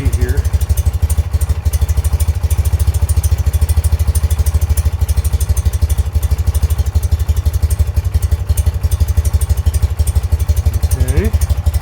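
A 1978 BMW R 80/7 boxer-twin motorcycle engine idles steadily after a carburetor rebuild, a loud, close, even low thrum with a fast regular pulse and light mechanical clatter, running alone without a break.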